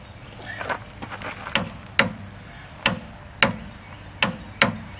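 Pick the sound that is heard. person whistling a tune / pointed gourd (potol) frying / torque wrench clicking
torque wrench clicking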